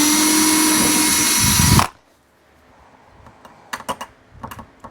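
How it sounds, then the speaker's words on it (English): A small drill whines loudly and steadily for a couple of seconds drilling a pilot hole in sheet metal, then stops abruptly, followed by a few faint clicks and taps. "you want a little teeny tiny drill to drill pilot holes"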